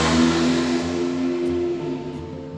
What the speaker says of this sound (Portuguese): Só uma moto aí, eu acho.